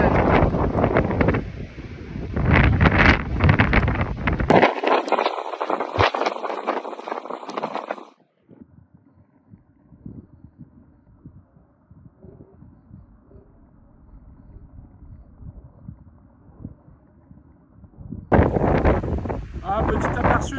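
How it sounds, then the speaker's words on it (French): Strong wind buffets a small boat at sea in stormy, rainy weather, roaring loudly and close at the start and end with a quieter, duller stretch in the middle; a voice speaks briefly. "J'arrive plus à avancer, j'ai le vent contre moi là."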